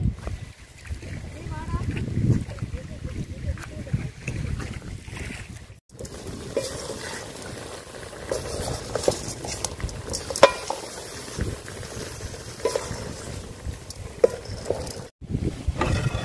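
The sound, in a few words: chicken curry pieces sautéing in oil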